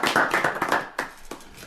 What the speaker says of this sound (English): Can we give Dr.